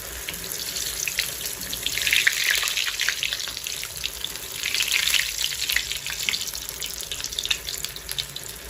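Steady hissing, crackling sizzle of vegetable spring rolls frying in hot oil, swelling louder at moments, with no voices.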